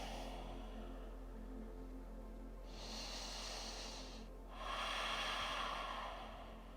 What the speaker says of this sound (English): Breathe in here.